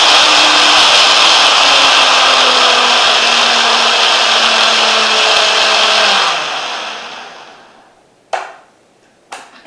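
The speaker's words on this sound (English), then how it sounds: "So I'm just going to whir this up in my blender." A blender whirs up a smoothie with frozen banana, a loud steady motor roar that slows and winds down after about six seconds, followed by two brief knocks in the quiet.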